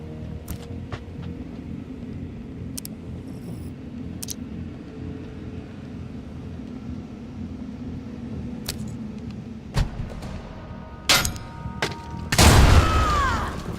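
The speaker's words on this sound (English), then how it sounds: "And let's throw our grenade." A grenade goes off in the Mutant Year Zero tactical game, a loud booming burst near the end of the stretch, following several sharp thuds over a steady low ambient rumble.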